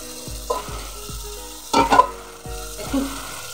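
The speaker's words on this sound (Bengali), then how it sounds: "এবার আমি পেস্ট করা পেঁয়াজ, রসুন সব মশলাগুলো দিয়ে আবার একটু কষে নেব।" Paste of onion, garlic and spices sautéing in a pan for a Bengali fish dish: a low, steady sizzle with repeated soft scrapes of a spoon and a louder burst of stirring midway, close and without speech.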